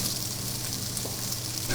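Vegetables cooking with soy in a hot pan give off a steady, close, bright sizzle, even and continuous throughout with no voices.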